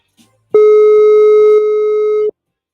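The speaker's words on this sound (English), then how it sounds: "Apologies for that little ringing there" A steady electronic telephone tone cuts in loudly over a broadcast phone line, holding one unbroken pitch for nearly two seconds before stopping abruptly.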